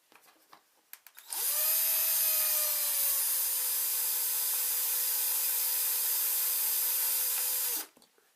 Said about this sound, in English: So now we're going to drill a little hole in the base here just to accommodate that wire.